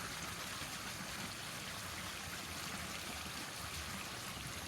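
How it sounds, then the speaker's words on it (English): A small garden waterfall runs in a steady, continuous rush of falling water, close and even throughout with no other sounds. "And there's the waterfall."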